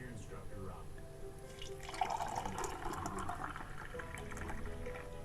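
Water is poured from a container while preparing breakfast, a splashing, trickling stream that starts about two seconds in and runs steadily to the end, close and fairly quiet, with a voice talking faintly in the background.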